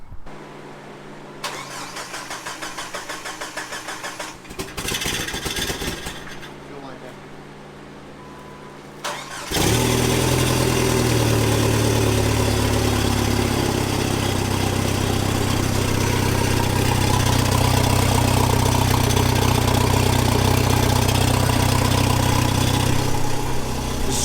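A Jeep TJ's 2.5-litre engine with a GTI turbo and no exhaust, shown in an off-road build, cranks briefly and then catches, settling into a loud, steady, rough idle that continues to the end.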